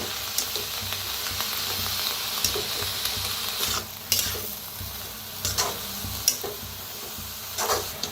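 Karadi (safflower) greens being stirred and mixed in a hot pan, a steady soft sizzle with repeated scraping strokes and occasional louder clinks of the spoon against the pan, close and continuous without talk.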